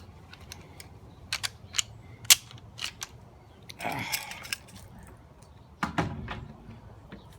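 An M1 Garand rifle is unloaded, giving a series of sharp metallic clicks and clacks from the action, with a louder rattling clank midway and another near the end, close and alone.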